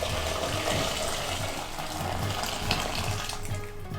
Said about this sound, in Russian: Сверху заливаем их горячей водой.